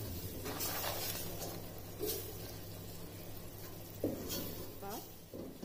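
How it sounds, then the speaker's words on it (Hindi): Spoon stirring coriander powder and garam masala into a pan for a Mughlai chicken changezi, giving a faint, low scrape and a soft sizzle over a steady background hum. "धनिया पाउडर, गरम मसाला पाउडर और अब अच्छी तरह से मिक्स कर लेना है"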